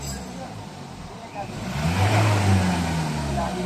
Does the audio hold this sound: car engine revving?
yes